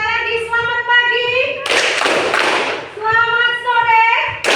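Classroom children chant a greeting together, then break into a burst of rhythmic hand clapping lasting over a second, followed by more chanting voices.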